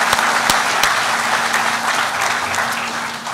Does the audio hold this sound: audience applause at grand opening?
yes